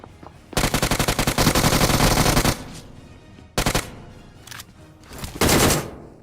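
Rapid automatic gunfire from a mobile battle royale shooter in an Aquaman mode, loud bursts in several sustained volleys separated by short pauses, with no talking.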